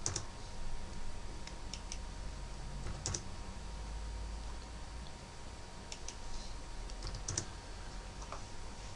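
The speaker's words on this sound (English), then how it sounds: "We'll type in the quantities." Sparse clusters of computer keyboard keystrokes entering quantities into electrical estimating software, quiet and close over a steady low hum, with no one talking.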